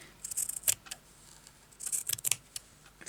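Scissors cut paper for a craft tag in quick clusters of crisp snips, close and fairly quiet, with short pauses between bursts.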